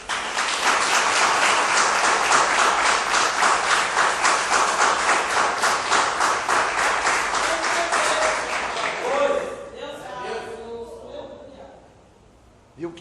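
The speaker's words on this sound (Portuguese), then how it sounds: "Vocês podem dar uma salva de palmas para Jesus?" Congregation applauding in a church service, loud rhythmic clapping in near-unison beats for about nine seconds before fading into scattered claps and speech.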